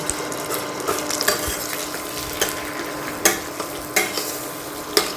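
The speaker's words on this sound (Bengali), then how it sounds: "ওস্টটাকে আমি ভেজে নেব।" Oats frying in a pan after whole-spice tempering, a steady sizzle broken by repeated scraping and clinking strokes of a spatula stirring, close and clear, with no talking.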